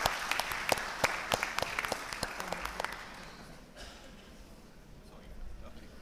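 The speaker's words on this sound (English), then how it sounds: "a big round of applause for Hafiz Naeem Saab" An audience at a CEO summit in Karachi applauds after a speech, with dense clapping that is strongest at first and then fades to room noise within a few seconds, while a voice speaks over it.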